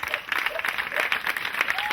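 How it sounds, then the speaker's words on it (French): Audience applause for singers at a live performing-arts academy show, a steady wash of clapping with a few louder hands and some faint voices mixed in, sustained through the moment. "Je voudrais qu'on les applaudisse très fort."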